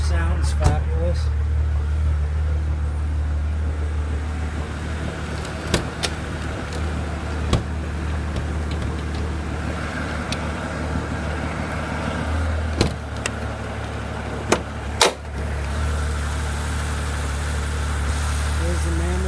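A 2006 Mercedes-Benz S65 with its V12 engine idles steadily and close by, a deep continuous hum with a few sharp clicks and knocks over it.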